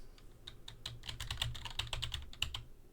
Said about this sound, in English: the typing is kind of loud